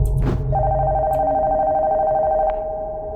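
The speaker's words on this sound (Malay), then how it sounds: "Kenapa ada telefon bunyi?" A telephone rings inside an abandoned house, a steady electronic tone sounding loudly and close after a brief knock.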